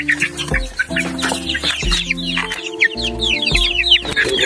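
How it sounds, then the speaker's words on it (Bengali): Small baby chicks feeding, with a busy flurry of high chirps close by and some lower clucking and tonal calls from fowl nearby, fairly loud with no talk. "এটা আমাদের ছোট ছোট মুরগি বাচ্চা, এই সবই কিউট কিউট মুরগি বাচ্চা"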